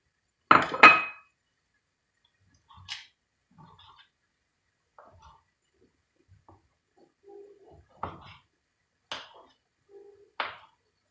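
Chicken pieces going into a pan of vegetables for a mushroom chicken sauté, a sharp clatter of meat and metal first, then a sparse scatter of light clinks and taps against cookware in an otherwise quiet kitchen.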